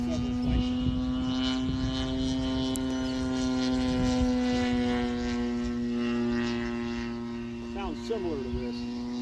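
An RC model biplane's engine drones steadily through the whole stretch as it flies, a sustained propeller buzz that shifts slightly in pitch, with brief voices near the end.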